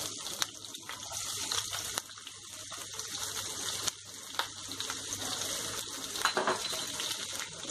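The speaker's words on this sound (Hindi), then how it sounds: "प्याज को हल्का सा गोल्डन ब्राउन होने तक फ्राई कर लेंगे" Onions sizzling in a pan for vegetable dalia pulao: a steady, fairly quiet frying hiss with scattered crackles and occasional small clinks, and no talking.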